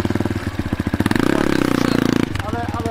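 Diabolini MMR 250 cross motorcycle engine pulled to full throttle, its rapid firing pulses climbing into a steady, loud high-revving drone before the throttle snaps shut and the engine drops back, close by with brief voices around it.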